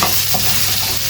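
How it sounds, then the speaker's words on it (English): Continuous close sizzle and crackle of chicken frying in a hot pan for a curry, steady and fairly loud. "So the chicken's been frying off for"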